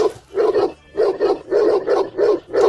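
Several dogs bark in repeated bursts, roughly six loud, close barks spread over a few seconds with short gaps between them, and no talk in between.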